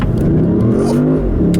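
A 2013 Audi S6 with all-wheel drive accelerates hard, its engine note rising steadily in a loud, close, sustained rev heard from inside the car.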